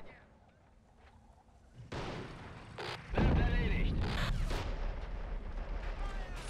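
A heavy explosion booms out in the war strategy game Behind Enemy Lines: Assault Squad 2, followed by sustained rumbling battle noise, with a voice talking over it.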